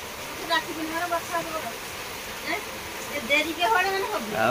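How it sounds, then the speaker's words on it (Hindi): Heavy monsoon rain pours down outside a family kitchen, a dense steady hiss with scattered splashes, heard under people talking. "जापर बहुत जोर से वर्षा हो"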